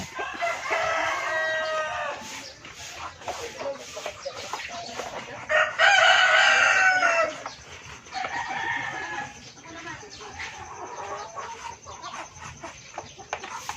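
Black Australorp and Texas crossbreed chickens cluck and crow in a nearby farmyard, a rooster call rising loud near the middle over continuous overlapping fowl chatter.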